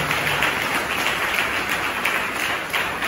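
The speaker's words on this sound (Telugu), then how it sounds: "చప్పట్లు కొట్టండి గట్టిగా." Church congregation at a Sunday service clapping loudly, a dense, steady wash of applause filling the whole stretch with no pauses.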